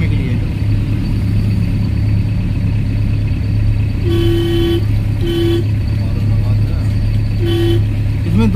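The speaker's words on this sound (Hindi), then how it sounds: "इसमें 2 स्पीकर लगा हुआ हॉर्न का" Three short car horn toots from a two-speaker horn sound against a steady engine hum and road noise, the first longest, the next two brief and evenly spaced.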